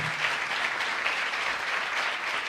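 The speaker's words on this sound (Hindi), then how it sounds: "आओ खुदा के जलाल के लिए जोरदार तालियां।" Sustained, dense applause from a church congregation fills the room, steady and loud throughout with no break, a continuous wash of many hands clapping together.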